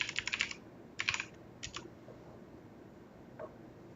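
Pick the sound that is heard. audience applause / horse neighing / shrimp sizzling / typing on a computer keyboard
typing on a computer keyboard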